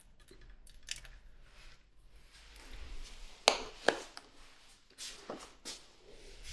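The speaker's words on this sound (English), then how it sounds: "Scissors." Scissors snip a few times in short, sharp cuts over quiet background noise, with two crisp snips standing out in the middle.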